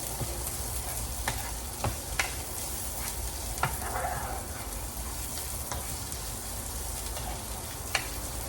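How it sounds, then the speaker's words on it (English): Leftover chicken browning in a pan while being stirred, a steady close sizzle with occasional sharp scrapes and clicks of the utensil against the pan, no talking. "And I'm just gonna give this another stir and let them brown some more."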